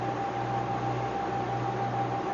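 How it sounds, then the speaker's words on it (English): A sailboat's engine room blower hums steadily while docking in rain, a constant whirring drone with a low tonal buzz and broadband hiss that stays even and unbroken throughout. "that noise is the engine room blower"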